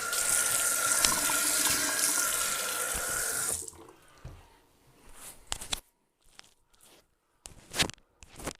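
A tap runs steadily for a few seconds during a shaving rinse, a bright rushing splash that stops abruptly, followed by scattered drips, handling noises and small clatters nearby.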